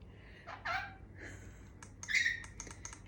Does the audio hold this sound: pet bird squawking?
yes